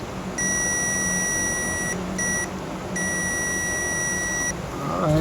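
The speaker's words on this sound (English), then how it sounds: "But it's beeping without nothing on." A multimeter gives a steady high electronic beep continuously with nothing connected, breaks briefly twice, then resumes, with faint background noise underneath, during repair of a Rockville powered subwoofer box.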